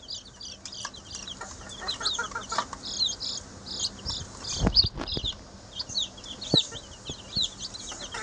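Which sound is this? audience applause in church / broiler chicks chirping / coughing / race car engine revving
broiler chicks chirping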